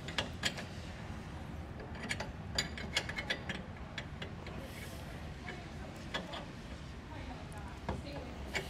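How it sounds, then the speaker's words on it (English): A wrench ratchets in quick clicking strokes while tightening an anti-rattle hitch pin on a trailer hitch, the clicks close and irregular over a low background hum, with a voice speaking. "then we'll just take our wrench and start tightening"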